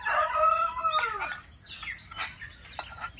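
Chickens in a rural Thai village where a meal is being cooked: a rooster crows loudly and nearby, followed by several rising, wavering squawks and clucks from other birds.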